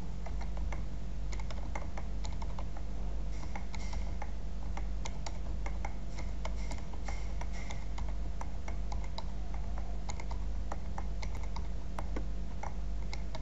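Grades are typed by hand on a computer keyboard into school report software, a brisk, continuous patter of clicking keystrokes over a low background hum.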